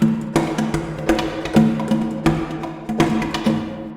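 A homemade jug drum struck by hand in a loose, irregular beat, each hit a sharp resonant thump with a short ringing tone, close and fairly loud with no voices.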